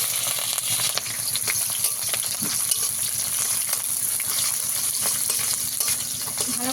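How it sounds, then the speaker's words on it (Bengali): Black cumin, white cumin and green chillies frying in hot oil in a heated wok, a dense crackling sizzle broken by small pops and occasional stirring clicks, close and continuous, with no talking. "ভালো করে ভেজে নেব।"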